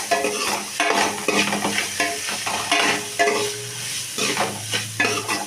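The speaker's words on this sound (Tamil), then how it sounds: "உப்பு போட்டு நல்லா கிண்டிக்கலாம்" Stirring potatoes frying with salt in a sizzling pan, a utensil scraping and turning them in repeated strokes over a steady crackle, close up, no talking.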